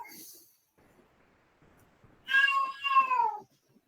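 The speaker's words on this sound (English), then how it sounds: "Damn cat's having a canary" A cat lets out a loud, drawn-out meow, close by and alone after a quiet stretch, with a faint short cry at the very start.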